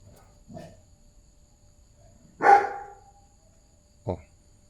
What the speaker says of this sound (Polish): gania żaby i szczeka